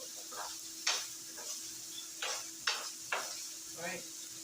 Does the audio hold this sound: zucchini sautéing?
yes